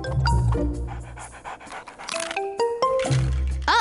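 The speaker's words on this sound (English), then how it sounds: "it's not easy to walk a dog 3 times your size." A cartoon dog pants rapidly and loudly up close, its breathy huffs mixed with bright chiming and clinking toy-like sounds.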